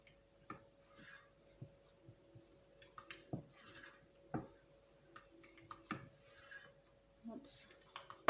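Macaroni cheese sauce being stirred in a pan: soft, irregular scraping rubs with occasional light taps of the utensil against the pan, fairly quiet and close.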